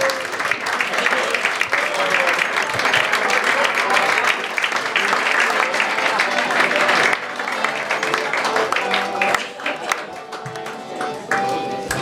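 Dense, loud crowd applause at the Basel carnival during a Schnitzelbangg performance, sustained for many seconds with cheering voices mixed in and easing slightly toward the end.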